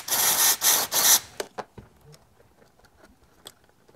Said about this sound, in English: You just want to scrape up the rust.